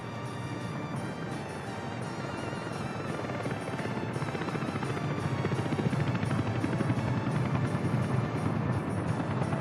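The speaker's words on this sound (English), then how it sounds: "Here comes our helicopter." A helicopter flies in during a Workers & Resources: Soviet Republic game, its steady rotor drone and engine buzz growing gradually louder as it approaches, with no talk over it.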